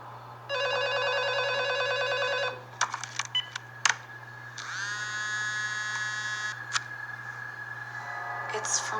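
Telephone in a house ringing with an electronic tone, a sustained buzzing ring for about two seconds, a brief cluster of clicks and beeps, then a second longer ring, fairly close and clear against a low hum.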